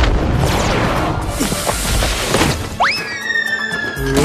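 Gunfire blast effect from an animated fantasy series during a tournament battle: a dense, roaring burst of noise that ends in a sharp, rising, whistling zap, loud and close, with no talking.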